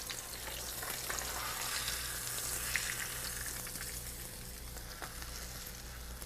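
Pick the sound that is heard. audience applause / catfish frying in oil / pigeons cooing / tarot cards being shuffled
catfish frying in oil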